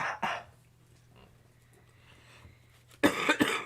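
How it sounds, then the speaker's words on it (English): Two bursts of coughing from a nearby person, one short cough at the start and a harsher double cough at the end, with near silence between. "I'm just going to start coughing on everything."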